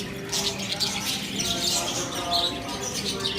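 Lovebirds in a breeding colony chirp and tweet continuously, a dense chorus of many birds nearby with shrill, overlapping calls and no talking.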